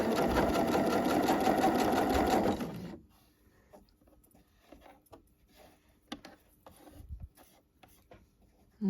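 A sewing machine stitches fabric for fingerless gloves in a loud, steady whirring run lasting under three seconds, then stops, leaving only faint handling clicks and rustles.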